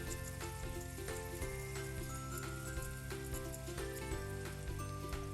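Oil hisses and sizzles steadily in a pan while rohu fish is fried for a fish and cauliflower curry, a dense crackling spatter running the whole time with occasional louder pops and no talking.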